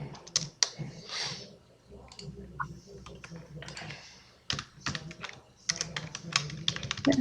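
Fingers typing on a computer keyboard, quick irregular clicks of keys in bursts with short pauses, close and fairly crisp, with a faint voice murmuring in the background.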